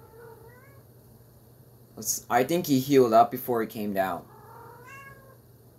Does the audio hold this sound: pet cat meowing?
yes